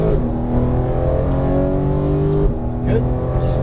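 A Porsche GT3 991 engine pulls hard on a track, a steady loud drone that rises in pitch and drops at an upshift, heard from inside the car.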